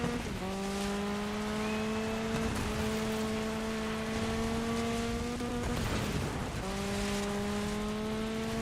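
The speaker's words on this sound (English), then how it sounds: "This rain makes the drifting so smooth." In the racing video game Dirt 5, rain hisses steadily over a car engine's sustained drone, whose pitch holds and then resets a few times as the car drifts, with no talk.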